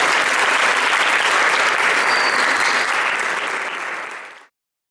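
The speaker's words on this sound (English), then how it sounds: "Let's give a big round of applause." A studio audience gives a loud, dense round of applause during a radio and TV broadcast, the clapping sustained and close before fading out quickly near the end.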